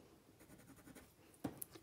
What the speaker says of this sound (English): So I can mark that with my pencil